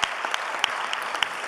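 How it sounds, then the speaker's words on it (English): Applause at a high school men's basketball awards banquet, a dense burst of clapping from the gathered crowd with a few sharper individual claps standing out, steady and close throughout the brief moment. "Give them a round of applause."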